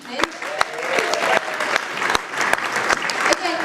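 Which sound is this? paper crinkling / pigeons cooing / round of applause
round of applause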